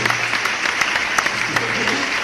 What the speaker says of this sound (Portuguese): Ariel Moshe, uma salva de palmas pra ele